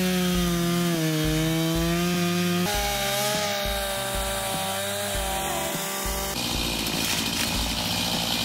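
A Stihl MS-251 Wood Boss chainsaw drones steadily and loudly throughout, its engine pitch shifting as it bites into wood, with no pauses or talk.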